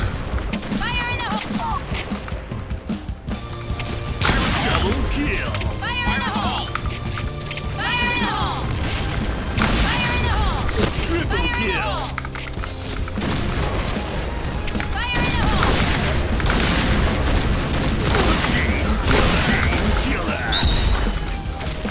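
Sniper rifle fire from an L115A1 in the online shooter Point Blank, several sharp shots spaced across the stretch amid game effects, music and speech layered over the action.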